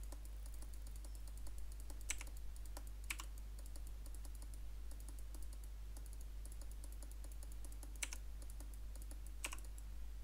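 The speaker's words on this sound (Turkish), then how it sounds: "Direkt A'ya basarak da yapabilirsiniz." Computer keyboard keys are pressed during a game of League of Legends, producing scattered light clicks and a few sharper taps over a constant low electrical hum, with no talking.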